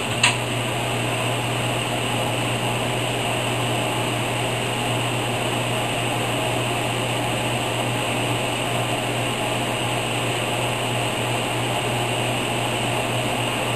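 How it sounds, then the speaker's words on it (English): A vacuum cleaner runs continuously, a steady droning whir with a constant low hum and no change in pitch, with no voices over it. "you start the vacuum cleaner"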